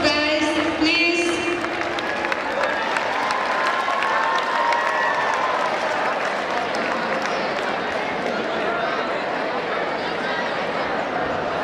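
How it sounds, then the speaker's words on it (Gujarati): A school annual day crowd breaks into sustained applause, loud and dense at first with a few brief cheers, settling into steady clapping, with a host speaking over it early on. "A big round of applause, guys, please."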